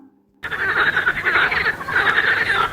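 A frog croaks in a dense, continuous rattling chorus that starts abruptly after a brief quiet moment and carries on steadily and loudly to the end, with no voices.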